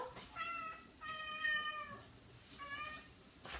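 A cat meows three times nearby, drawn-out and plaintive, with short pauses between the calls.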